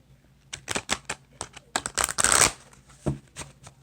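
A Soul of the Journey oracle card deck is shuffled close up in quick bursts of riffling card flutter, with brief pauses between, ending in a couple of lighter taps.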